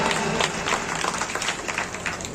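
Audience members clap at a satsang farewell ceremony in Beawar, a brief burst of dense, lively applause from a gathered crowd, fairly close.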